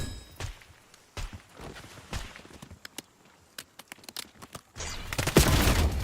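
Video game submachine gun fire in short scattered bursts and single cracks, then a louder sustained burst of rapid shots near the end, with sparse background noise between.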